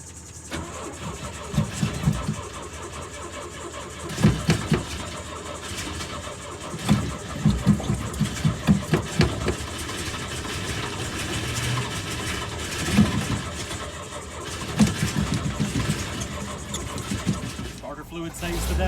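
An old engine, choke pulled and sprayed with starter fluid, cranks in repeated bursts and catches, then runs unevenly with surging revs while someone talks over it throughout.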